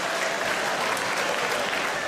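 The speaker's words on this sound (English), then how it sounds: "Just a round of applause, my Bristol cider drinking friend." Audience applause at a live comedy show, dense and continuous for its whole length with no talk over it.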